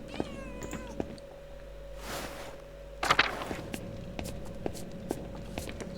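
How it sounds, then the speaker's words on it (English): A cat meows in the medieval-set video game Pentiment, a few short close calls over a quiet ambient bed with soft footstep-like shuffles and one brighter burst midway. "I shouldn't feed the cat because he's going to be too lazy to chase after the mice"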